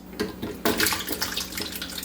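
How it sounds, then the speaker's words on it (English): Water being poured into a blender for guava lemonade, a close, splashing gush that starts, briefly thins, then runs steadily to the end. "In goes water."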